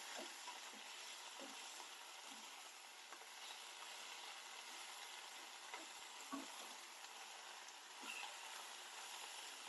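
Okra and peanuts fry in oil over a low flame, giving a soft, steady sizzle with faint crackles and occasional stirring scrapes, quiet and close with no talking.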